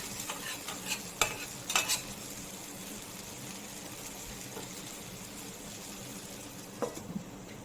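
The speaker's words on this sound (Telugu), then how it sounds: "ఈ ఆయిల్తోనే ఫిష్ అంతా కుక్ అయిపోతుంది" Fish frying in oil in a pan, a steady close sizzle with a few sharper bursts and scraping stirs near the start and end, no voices.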